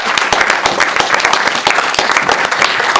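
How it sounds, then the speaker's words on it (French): A church congregation claps and cheers to welcome a woman forward, loud, close and continuous, with sharp hand claps over a dense crowd roar. "On l'accueille avec des acclamations."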